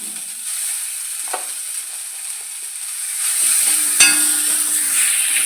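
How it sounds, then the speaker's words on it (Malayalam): Onion rice being stirred in a hot pan, a steady frying sizzle with a few sharp scrapes and clinks of the spoon against the pan, close and fairly loud, with no talking. "നല്ലോണം മിക്സ് ചെയ്തെടുക്കുക"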